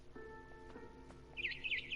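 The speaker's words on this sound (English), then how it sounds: "Then I heard chirping outside my window." A barn swallow in an adventure video game gives a quick burst of high twittering chirps near the end, after soft tonal game sounds.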